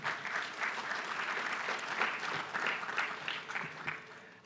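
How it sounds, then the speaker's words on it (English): Audience applause at a launch event for KnowledgeTT, sustained even clapping from a seated crowd that holds steady for several seconds before tapering slightly at the end. "Please give them a round of applause again."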